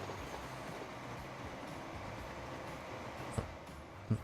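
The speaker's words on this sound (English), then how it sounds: "let's see how fast this train goes" A train in the video game Transport Fever rumbles along a straight uphill route in a steady continuous roll, with a couple of faint clunks near the end and no talk.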